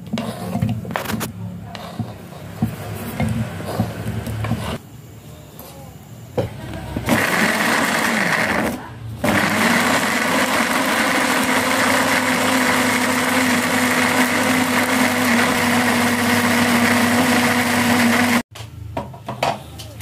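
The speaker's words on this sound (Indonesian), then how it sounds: "Bumbu saya blender." An electric blender grinding spices whirs loudly in bursts, then runs in one long continuous high-pitched grind before cutting off abruptly.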